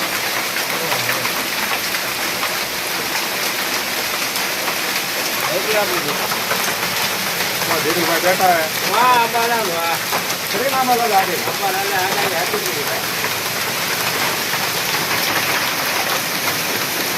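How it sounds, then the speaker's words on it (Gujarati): Heavy rain with hail beats down steadily near the market gate in Rajkot, a loud, continuous close-up roar of drops on surfaces, while someone talks over it in the middle stretch. "જો ભાઈ કરા સાથે વરસાદ પડે છે"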